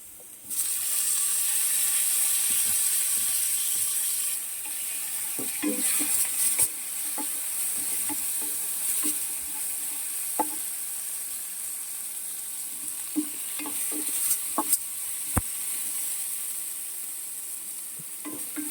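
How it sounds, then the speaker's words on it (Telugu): Tomato pieces fry in a pan with a strong, steady hiss at first that eases into a softer sizzle, broken by occasional spatula clicks and stirring taps, close and alone. "వేగిపోయాయి, టమోటా ముక్కలు యాడ్ చేస్తున్నాను."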